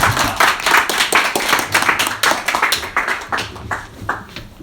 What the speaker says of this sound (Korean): 우리 황상민 교수님을 박수로 모시겠습니다